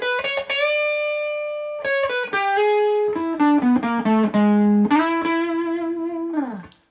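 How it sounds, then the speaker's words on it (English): An electric guitar plays a slow blues lick blending major and minor pentatonic notes, with a long held opening note, then descending phrases with bends and slides ending on a sustained low note, alone and close. "Here's a fun lick that kind of mixes major pentatonic and minor pentatonic blues scale."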